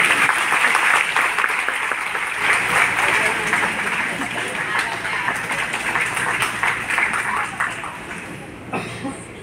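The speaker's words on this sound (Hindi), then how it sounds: "ताली बजाओ।" An audience at a Hindi poetry recital claps: dense, loud applause from a crowd fills the clip, thinning slightly toward the end.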